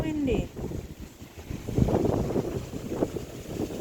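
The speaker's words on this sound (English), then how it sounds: "Wow, it's windy. Yes, it's very windy." Strong wind blows outside on a rainy day, gusting and buffeting against the microphone in uneven surges, while people talk over it nearby.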